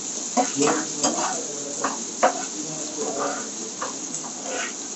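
Finely chopped onions go into a pan for egg Manchurian fried rice and are stir-fried, with a utensil clattering against the pan in irregular knocks over a light, steady sizzle.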